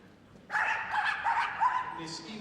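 Several police dogs yip and bark excitedly close by in a quick overlapping burst, loud and continuous for about two seconds, at a police dog display at Crufts 2012.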